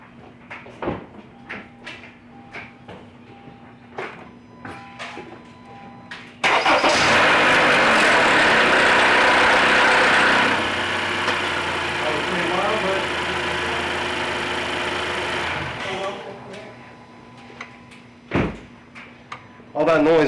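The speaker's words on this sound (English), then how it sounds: "All that noise was the oil pump trying to get some oil through the system." A 2013–2017 Honda Accord starts up right after an oil change, following a few clanks and knocks. It runs loudly and noisily at idle for about nine seconds before shutting off, and more clunks follow.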